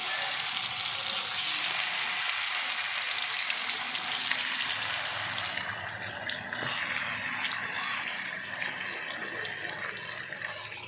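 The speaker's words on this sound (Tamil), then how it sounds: "கொஞ்சம் எண்ணெயை வந்து கொஞ்சம் விட்டுக்கலாம் விட்டுட்டு இதை போட்டு நம்ம ஃப்ரை பண்ண போகிறோங்க" Chicken thighs fry in oil in a home kitchen, a steady broad sizzle that holds for the whole stretch and eases slightly about halfway, with no talking.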